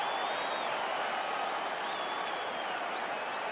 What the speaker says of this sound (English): Yeah, man, crowd loving it.